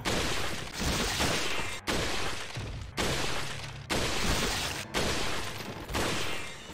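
Shotgun blasts from the video game Resident Evil 4, fired against shield-carrying enemies: six loud booming shots about a second apart, each decaying before the next, with no talk.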